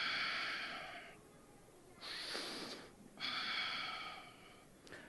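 Slow, deep breaths taken during a guided stretching exercise, three long airy inhale-exhale cycles, fairly close and soft, with no talking.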